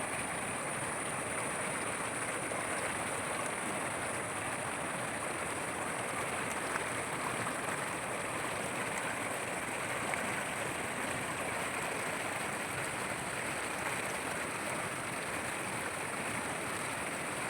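Stream water rushing over rocks, a continuous broadband roar that stays steady and fairly close throughout, with no voices.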